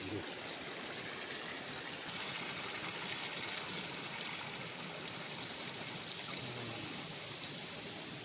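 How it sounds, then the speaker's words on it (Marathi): Ground spice paste mixed with water pours into a brass pot outdoors on a hillside, a steady rushing, trickling wash of liquid that runs continuously and fairly loud, with no talking. "आता त्या वाटण वरतून टकवणार आहे"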